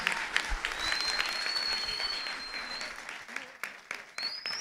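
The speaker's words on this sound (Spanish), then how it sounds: "La ovación del público." A crowd at a singing contest semi-final breaks into an ovation, loud massed clapping with a few sharp individual claps and a faint whistle-like tone threading through, tapering toward the end.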